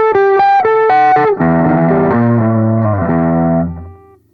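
Harley Benton CST24 Deluxe electric guitar with high-output Alnico 5 pickups driven through a distorted amp: a few picked notes, then a loud, sustained overdriven chord run that rings out and fades, no talking.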